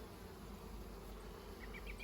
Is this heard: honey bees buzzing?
yes